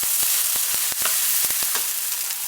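Semai vermicelli with coconut stirred in a hot pan, a steady sizzle with repeated sharp scrapes and taps of the utensil at an uneven rhythm, close and fairly loud, no talking.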